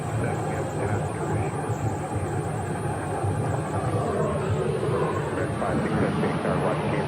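An American Airlines airliner takes off at Phoenix airport, a loud continuous jet engine roar and rumble that holds steady throughout, with a high whine above it and no clear speech.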